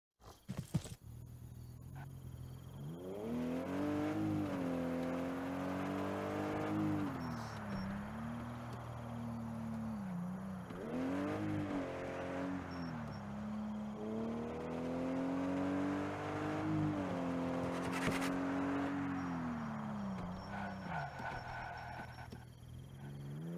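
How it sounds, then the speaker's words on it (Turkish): A car engine in the game Estate Agent Simulator drones and revs up and down in long swells, steady and continuous with shifting pitch as it drives. "Biçim araba lan, bunun freni tutmuyor be."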